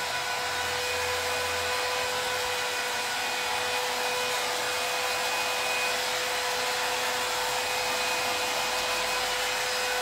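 A hair dryer blows steadily and loudly the whole time with a constant whine, drying a painted craft project for a baby's room.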